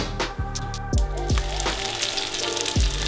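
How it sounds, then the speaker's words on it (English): Pork sizzles and crackles as it fries in a hot wok, steady frying noise with repeated sharp metallic scrapes and stirring clanks, close and loud. "we're going to fry the pork"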